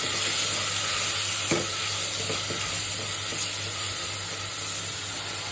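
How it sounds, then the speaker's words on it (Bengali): Chopped onion, prawns and potato fry in white oil in a pan, giving a steady, close hiss and sizzle with faint stirring clinks throughout. "সাদা তেল দিয়ে দিলাম পেঁয়াজ কুচি দিয়ে দিব, চিংড়ি মাছটা দিয়ে দিব, আলু দিয়ে দিব একটা বড় সাইজের"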